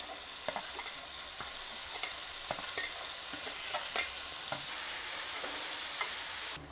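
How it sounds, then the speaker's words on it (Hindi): Bitter gourd seeds frying in a little oil in a hot pan, a continuous crackling sizzle dotted with sharp pops and stirring clicks, growing slightly louder near the end. "ये बीज को मैं फ्राई कर दी हूँ"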